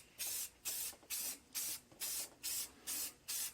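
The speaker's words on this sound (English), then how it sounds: "The Rust-Oleum 2X gives great coverage. It's almost like using my airbrush." Rust-Oleum 2X spray paint hisses from an aerosol can in eight short, even bursts with brief gaps between them, close and fairly loud, used to paint a faux concrete surface for a slot car model; no one speaks.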